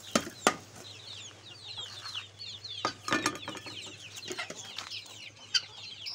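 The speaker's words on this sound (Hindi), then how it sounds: "चलो मुर्गियाँ खाएंगी।" Chickens cluck and chatter steadily at close range as they are fed rice, with occasional sharper squawks and soft thumps over a low, quiet hum.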